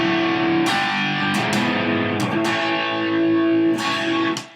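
Distorted electric guitar through a Lundgren Sucker Bucker humbucker pickup, with a few sustained, thick overdriven chords and strums ringing out alone for several seconds before fading.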